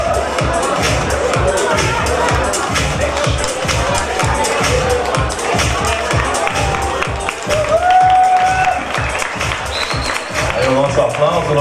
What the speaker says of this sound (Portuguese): Aplausos, nosso carinho para a Camila Coutinho